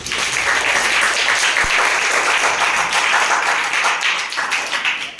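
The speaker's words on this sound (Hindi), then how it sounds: "संयुक्त रूप से आयोजित इस गणितीय सदन की शुरुआत हमेशा की तरह जोरदार तालियों से करें" A classroom of students claps loudly together, a dense, sustained round of applause with sharp individual claps standing out, lasting several seconds without talk.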